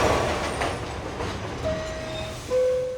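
A New York 5 subway train rumbles close and loud with a continuous rolling roar. Thin, steady wheel squeals rise near the end, and no voices are heard.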